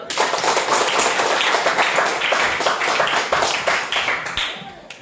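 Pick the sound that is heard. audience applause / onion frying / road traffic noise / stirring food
audience applause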